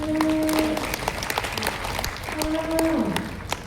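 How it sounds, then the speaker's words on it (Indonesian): Audience clapping at a Christian medical workers' Christmas and New Year celebration, dense steady applause throughout with a musical tone sounding twice over it. "Kita kasih tepuk tangan."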